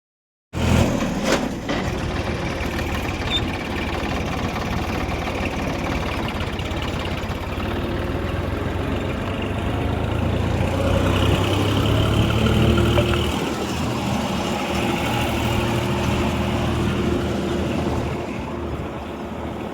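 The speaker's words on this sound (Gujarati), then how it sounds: "ટ્રેક્ટર રિવર્સ મારી દીધું છે હવે અમારે ખાલી કરવાનું છે" A tractor engine idles steadily nearby, a continuous low rumble that swells slightly midway, with some wind noise.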